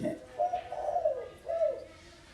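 A young spotted dove chick coos close by in soft, low phrases, three or four hollow rising-and-falling notes in quick succession, with no talk over them.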